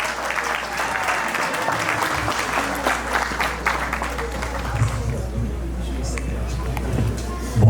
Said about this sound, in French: Applaudissez pour le pasteur Mwamba, s'il vous plaît.